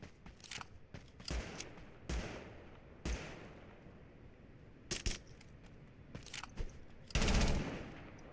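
Gunshots in Totally Accurate Battlegrounds: scattered single shots and short rapid bursts, some near and some distant, ending in a louder sustained volley, with no talk over them.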